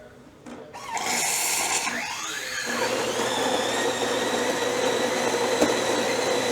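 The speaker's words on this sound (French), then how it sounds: "Donc la machine va prendre sa température et puis elle va faire mousser son lait." A Miele 6160 automatic espresso machine froths milk, starting with a short burst of hiss and a rising whine, then settling into a steady, fairly quiet mechanical hum with a faint high tone.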